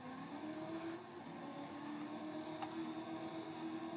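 A car engine from the video game Just Cause 2 hums at low volume with an even, sustained tone and only slight pitch drift. No one speaks.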